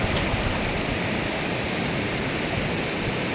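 Parvati river in Kasol, Kullu, rushing over rocks in cold mountain water, a steady, loud broadband roar of flowing water filling the whole span with no breaks and no voices.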